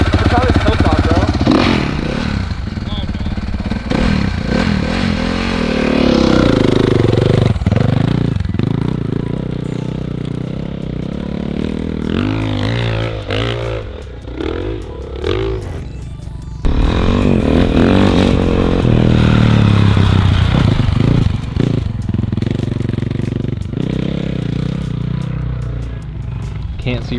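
Dirt bike motorcycle engine running without its motor cradle, rough idling and revving with clattering under loud nearby talk throughout.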